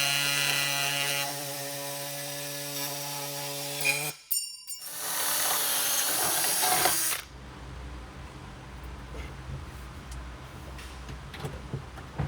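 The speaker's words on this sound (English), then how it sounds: "We just have a hole to drill in the chassis right there." A drill bores a hole into the chassis of a rotary Mazda RX-7 race car, with a whining motor hum that cuts out briefly, then a harsher grinding burst before it stops and leaves quiet shop noise.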